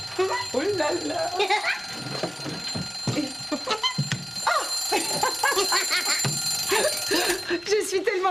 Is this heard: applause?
no